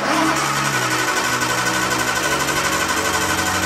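The engine of a Nissan Skyline R32 cranks steadily during a compression test, with a continuous, loud, rhythmic churning of the starter and no catch or revving.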